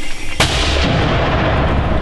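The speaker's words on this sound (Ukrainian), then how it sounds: "Міномет. Постріл!" A mortar fires a single shot during border guards' fighting in a forest, one sharp loud blast followed by a long rumbling decay over steady outdoor background noise.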